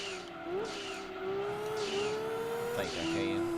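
Race car engine in Gran Turismo 2 during a used-car race, a steady mid-pitched drone that dips and climbs again at each gear shift, with a voice talking over it.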